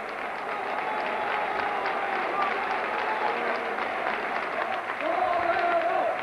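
A stadium crowd at a Real Madrid match against Logroñés applauds a goal by Hugo, a broad roar of clapping and crowd noise with shouting voices rising toward the end.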